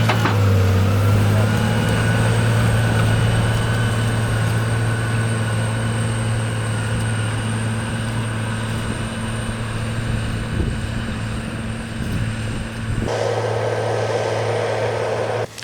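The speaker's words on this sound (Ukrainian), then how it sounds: "він тут зараз іде геть міленько, тому що ну, об'єктивно важко цьому трактору з цим" A tractor labors slowly while pulling a deep tillage implement across a field, its engine giving a steady, heavy low drone that continues throughout. Wind buffets the microphone, and the sound shifts slightly near the end.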